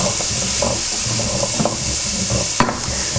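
Onions and celery stirred in a pan over medium heat, a steady sizzle with a few soft scraping strokes of the spoon across the short stretch.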